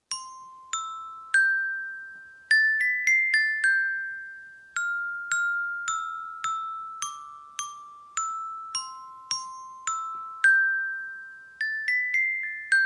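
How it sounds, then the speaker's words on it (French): Nursery rhyme tune picked out note by note on a German 12-bar Golden glockenspiel, bright metallic tones with sharp strikes and ringing decay, played alone at a gentle steady pace. "je te propose de le jouer sur ce carillon 12 lames de la marque Golden,"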